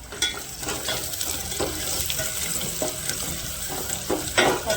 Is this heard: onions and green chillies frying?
yes